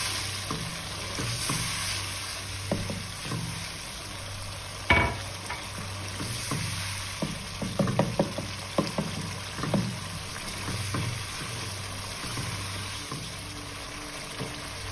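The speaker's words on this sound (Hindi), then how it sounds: "मैं पानी डाल डाल के उसको भून रही थी" A pan of onion masala for bhindi masala sizzles steadily as it roasts with water added, while a spoon stirs and scrapes at intervals, with occasional sharper knocks against the metal. Nearby, no voices.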